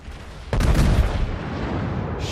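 Tirpitz, a German battleship in World of Warships, fires its main guns in a sudden heavy boom that rolls into a long, dense rumble with no voices.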